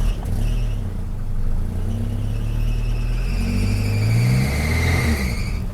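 A Mercedes W123 230TE engine runs steadily with a cracked exhaust manifold at the front of the header, giving a continuous loud low idle with some rising revs and whirring, close up and without talk.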